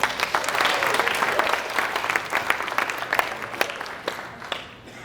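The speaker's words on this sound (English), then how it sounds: "So big round of applause." An audience claps for a speaker coming up at a PR talk, a bright steady burst of applause that gradually thins and fades toward the end.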